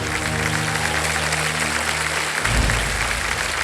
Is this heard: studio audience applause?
yes